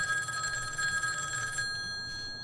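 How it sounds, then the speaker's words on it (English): A telephone rings in the first-person horror game Huntsman: The Orphanage, a steady loud electronic bell tone that holds for over a second and a half, then cuts off to quiet room noise. "Someone dare say is calleth on the phone."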